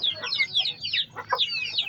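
A young Thai game rooster of a fighting breed gives a quick run of high, scratchy clucks and chirps, close and fairly loud, with short pauses between bursts.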